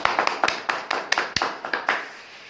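Applause for a well-known social worker welcomed onto the stage of a Help Everyone event: a short burst of hand clapping in uneven, spaced claps at moderate distance, with no talking.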